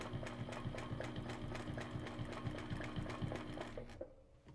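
A sewing machine runs steadily as it stitches a quilt, giving a continuous rhythmic mechanical hum with fast needle ticks, fairly quiet, before stopping abruptly just before the end.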